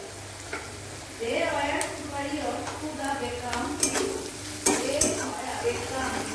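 Spices with salt and turmeric frying in a pan for a tarka, a close steady sizzle with repeated scraping stir strokes and occasional metallic clinks.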